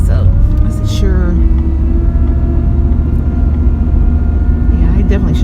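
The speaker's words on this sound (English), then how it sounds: "I definitely should have let my car warm up a little bit. It makes this bad sound whenever I don't let it warm up" An old car's engine, run before warming up, gives a loud steady rumble with a rough whirring drone that holds for several seconds and carries faint tonal whines on top.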